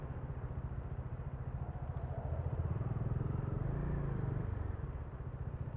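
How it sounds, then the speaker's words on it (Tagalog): A steady, close engine rumble from idling or slow-moving road vehicles, swelling slightly in the middle, like motorcycles creeping in rush-hour traffic on the CAVITEX expressway, heard from a Bajaj Dominar 400 motorcycle. "Traffic."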